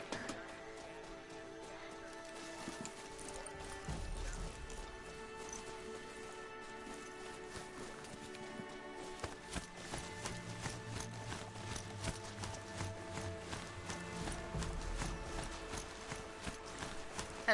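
Rapid clip-clop hoofbeats patter steadily throughout, a mechanical-sounding trot of a robot horse (a Strider) in the video game Horizon Zero Dawn, over low rumbling background tones, with no talking.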